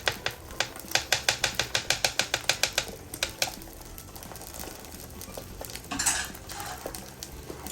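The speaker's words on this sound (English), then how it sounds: "So I'm busting these yolks out." Egg yolks being broken in a frying pan with a utensil while making a breakfast sandwich: a quick run of light clinking taps of metal on pan, then softer scraping and a faint sizzle, close and without talk.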